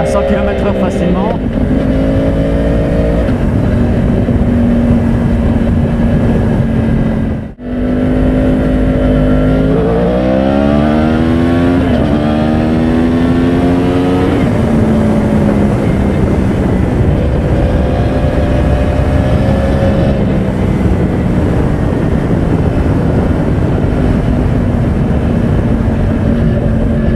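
A Yamaha YZF 1000 R1 sport motorcycle accelerates hard in first gear, its engine note climbing in rising sweeps that break briefly between gears before settling, loud and close throughout, with wind rush and someone talking over it.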